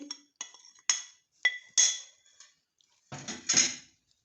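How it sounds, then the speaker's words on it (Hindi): Spices being mixed in a bowl for a Lahori fish fry produce a string of separate clinks and taps of a spoon against the dish, sharp and close, with brief pauses between them. "ये सारे मसाले हम मिक्स कर लेंगे, और इनको पहले हम बाउल में एक डालेंगे।"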